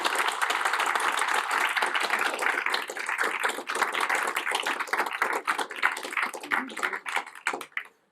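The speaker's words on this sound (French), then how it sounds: "je souhaitais un tonnerre d'applaudissements pour Guillaume qui a animé cette table ronde" A conference audience gives sustained applause at the close of a roundtable presenting LGBTQIA+ survey results, dense clapping from many hands that gradually thins and fades out near the end.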